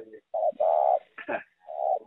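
A pet bird kept for song cooes in short mellow hoots close by, a few separated calls with a brief rougher note between them, loud against a quiet background.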